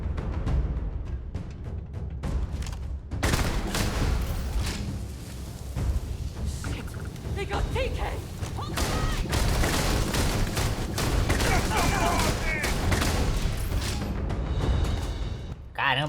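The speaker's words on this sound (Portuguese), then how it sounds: "aqui pelo jeito vai ser tiro pra todo lado" Gunfire erupts in the Starfield video game, bursts of shots and booms scattered through a busy game soundscape with someone talking over the action.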